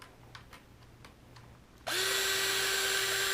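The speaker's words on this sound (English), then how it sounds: "Make sure you got your clutch on your drill set" After a quiet stretch with faint ticking, a cordless drill suddenly whirs to life, removing bolts from a radio-controlled X-Maxx truck, a loud steady high-pitched motor whine that continues to the end.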